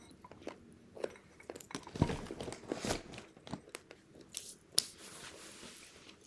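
Crunchy beef jerky bitten and chewed close to the mic, with irregular sharp crunches and snaps over several seconds amid quiet mouth noises and no talking.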